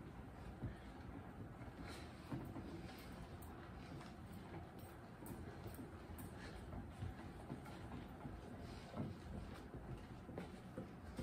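An etching press cranked by hand, rolling a copper plate with newsprint and blankets across the press bed, giving a steady low rumble with faint rhythmic clicks throughout, quiet and continuous with no talk.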